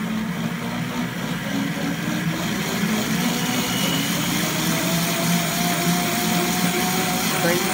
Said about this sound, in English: blend them up.